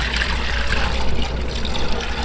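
About 1.5 litres of water streams into a kadhai set on a stove, giving a steady, close, continuous splashing rush with no voices.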